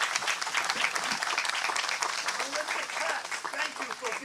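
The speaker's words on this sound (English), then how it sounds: "while we're clapping, can we give Dan Brown another round of applause?" Audience applause at a Memorial Day ceremony, a steady, fairly close round of clapping with some crowd noise and voices underneath.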